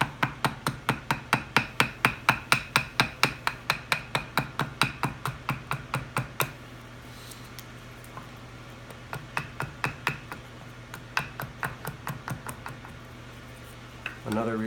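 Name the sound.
axe chopping a redbud spoon blank from a billet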